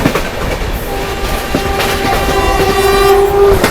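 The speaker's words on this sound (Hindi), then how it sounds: "अपनी ट्रेन के साथ क्रॉसिंग होने वाली है पटना जयनगर के बीच में चलने वाली नमो भारत ट्रेन के साथ।" Baba Baidyanath Dham Express passing the Namo Bharat train on the Patna–Jaynagar line, with loud continuous rail rumble and clatter, a sustained train horn blaring through the second half, close by and with no talk.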